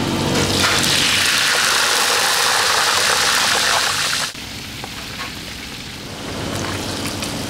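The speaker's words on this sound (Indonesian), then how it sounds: "Sambal hijaunya disiram itu ya, minyak panas ya." Hot oil poured over freshly ground green sambal erupts in a loud, dense, close sizzling hiss that cuts off abruptly and settles into a quieter crackle with background bustle.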